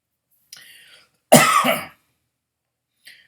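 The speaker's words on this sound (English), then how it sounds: "The strength of this is making me cough." A single harsh cough bursts out, close and loud, with faint breathy sounds just before and after.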